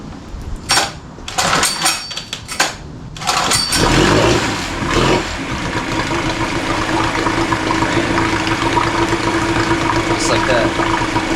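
A vintage Yamaha Enduro motorcycle engine cranks over in a few short bursts, catches, and settles into a loud, steady, slightly uneven idle right up close.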